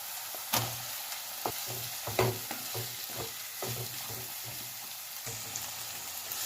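Onions frying in a pan until golden brown for a Bombay duck gravy hiss in a constant, moderate sizzle, with soft, occasional clicks of a spatula and no voices.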